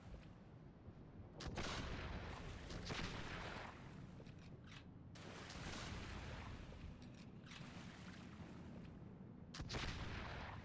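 Rifle gunfire in the video game Bloodborne, loud, booming reports like a cannon, several heavy blasts with long rumbling decay over a dull ambient bed, no talking.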